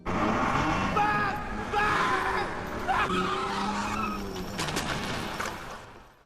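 In a film, a car races at full speed with roaring engine and squealing, skidding tires, loud and close, with sharp impact-like cracks near the end before it fades.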